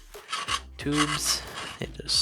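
Sandpaper rubs the edge of a rocket body tube in a parachute launch system build, making rasping strokes in uneven bursts, close, with a person speaking briefly over them.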